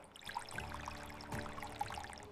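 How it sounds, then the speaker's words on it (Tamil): Milk and oil being poured slowly into chocolate cake batter in a miniature cake-making setup, a soft continuous trickling pour with small liquid plips, close and quiet, with no talking. "இப்போ பால் மற்றும் எண்ணெயை சேர்த்து மெதுவாக ஊற்றவும்."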